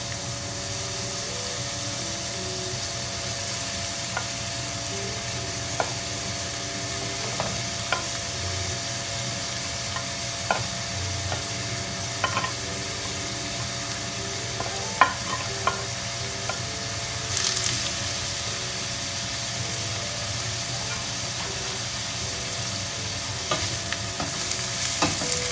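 Flaked leftover salmon stirs and sizzles in a frying pan with partly cooked onion, a steady close hiss of frying broken by irregular scraping clicks of the spatula against the pan.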